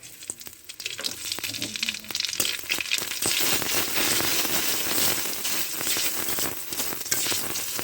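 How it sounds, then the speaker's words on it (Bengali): Two dried red chillies and black cumin seeds sizzle loudly in hot oil in a wok. Close, continuous crackling builds and holds, with scattered sharp pops and scrapes of stirring. "কড়াইতে তেল দিলাম, শুকনা মরিচ দিলাম 2টা"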